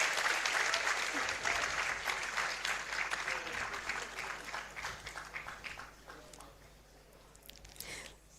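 An audience at a university awards ceremony for distance education graduates claps for an honoree, the applause strong at first, then slowly fading and thinning out with a few scattered late claps.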